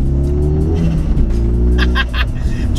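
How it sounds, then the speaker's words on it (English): A 2007 Renault Clio 197 with a swapped turbocharged Megane R26 engine revs and drones loudly up close through a non-standard exhaust, with rapid turbo flutter chatter breaking in near the end. "as you can hear from the exhaust note and from the flutters coming from the front"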